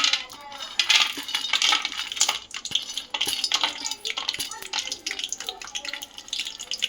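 Peanuts are dropped into a pan while making poha upma, producing a close, busy scatter of small hard clicks and rattles against metal that thins out and comes in short bursts.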